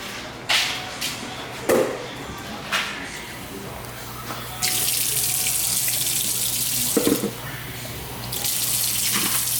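Tap water runs in a steady rushing stream into a pot of rice, swelling louder partway through, with a few clinks and knocks of the pot nearby.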